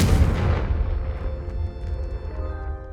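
A fiery Confringo spell blast from Hogwarts Legacy erupts in a loud, deep boom up front, then rumbles and rings out into a fading tail.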